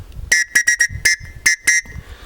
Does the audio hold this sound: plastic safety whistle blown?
yes